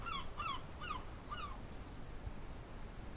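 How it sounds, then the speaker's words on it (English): Seabirds cry out in a quick series of about four sharp, rising-falling calls at moderate distance over a faint coastal background, then the calls stop and only low ambient noise remains. "hearing the cry of gulls, smelling that faint, salty scent of the sea"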